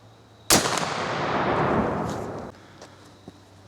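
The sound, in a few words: gunshot from a Thompson/Center Renegade muzzleloader rifle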